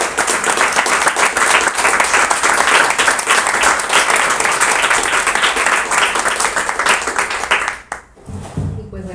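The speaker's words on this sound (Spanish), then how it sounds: "le damos un aplauso por favor a los ponentes" An audience applauds the speakers at the close of a talk on microscopic fungi, dense sustained clapping from a crowd that carries on loudly for several seconds before fading abruptly near the end.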